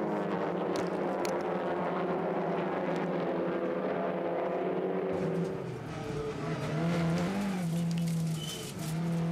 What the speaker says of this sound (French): Alors qu'Aurélien Panis occupe la 5e place au volant de la première Audi